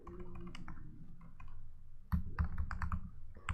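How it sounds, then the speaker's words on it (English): Keys clatter on a computer keyboard while Python NumPy code is entered, a close run of crisp clicks that starts sparse and light, then turns into a denser, louder burst of rapid strokes. "So let's finish typing in what we have here"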